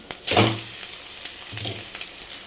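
Noodles tossed and stir-fried in an oily pan with tomato sauce and soy sauce for fast-food style vegetable noodles, giving a steady sizzle with a couple of brief scraping stirs, close and fairly loud, no talking.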